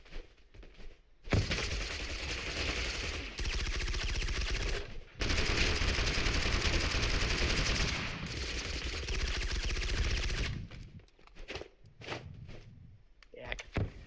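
Automatic gunfire in the battle royale game Totally Accurate Battlegrounds, sustained bursts of rapid shots running for several seconds at a time with brief gaps, while players talk over the action.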